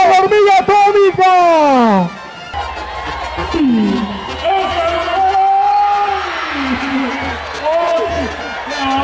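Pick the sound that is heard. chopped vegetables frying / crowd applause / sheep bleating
crowd applause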